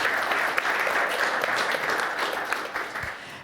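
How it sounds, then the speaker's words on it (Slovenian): Steady audience applause for speaker Marko Grobelnik after his talk on future AI challenges requiring HPC, continuous dense clapping at moderate volume for a few seconds. "aplavz za gospoda Grobenika"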